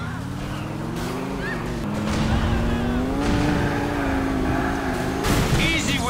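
In GTA 4, a car speeds through traffic with a loud, continuous engine drone that climbs slightly in pitch and is punctuated by a short rushing burst near the end.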